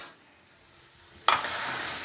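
Okra hitting a hot, dry kadai with no oil, a sudden loud sizzle bursting in after a quiet stretch and holding as a steady hiss.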